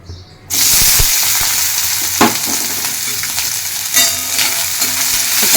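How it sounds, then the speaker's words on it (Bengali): Chopped onion and garlic dropped into hot mustard oil burst into a loud, dense sizzle after a brief quiet start, with occasional stirring scrapes. "এই তেলের মধ্যে দিচ্ছি আমি একটা মিডিয়াম সাইজের পেঁয়াজ কুচি আর ছ সাতটা রসুনের কোয়া"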